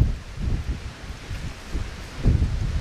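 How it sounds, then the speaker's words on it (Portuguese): Strong wind gusts through a coffee plantation in the countryside, buffeting the microphone with uneven low rumbling surges and rustling, fairly close and unbroken by speech. "E o vento aqui está muito forte, então tudo colabora para não ficar uma boa gravação"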